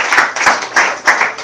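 A church congregation applauds the Lord with brisk, rhythmic handclaps, each burst landing in a steady repeating pulse, close and loud.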